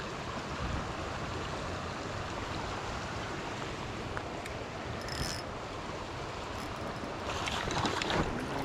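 A flowing brook in Virginia trout country gives a steady, even rush of water, continuous and moderately quiet with no voices.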